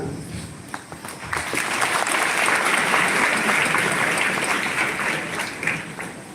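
Sustained audience applause from a crowd at a public talk, dense and steady throughout with many hands clapping at close range.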